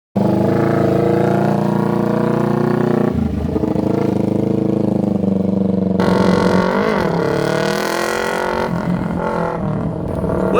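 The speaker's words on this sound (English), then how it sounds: "What you just saw is Jubril doing his first run from first to second gear." Dirt bike engine revving steadily as a beginner rider shifts from first to second gear, a loud continuous drone with a clear drop and change in pitch at each shift, no voices.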